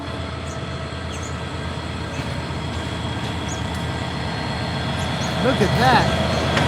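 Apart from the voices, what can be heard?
train passing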